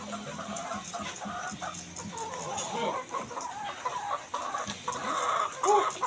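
Several chickens cluck steadily in a busy coop of laying hens, a continuous layered clucking with a few louder calls standing out near the end.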